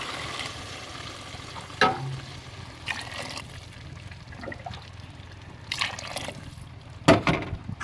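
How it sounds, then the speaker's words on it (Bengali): Water is poured into a pot of fried pulao rice, producing faint, intermittent splashes and soft sizzling bursts over a quiet, steady kitchen background. No voices are heard. "এখন আমি এক কেজি পোলাউর চালে পরিমাণ মতন পানি দিয়ে দিব"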